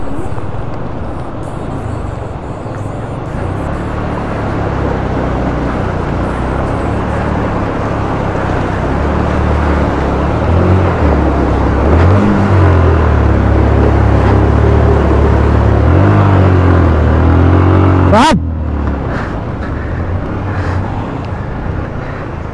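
A motorbike with a rider and passenger crosses a water stream in the Pangi Valley on the route from Sural Bhatori to Tandi. A loud, steady engine drone runs throughout alongside rushing water, and the engine note rises near the end.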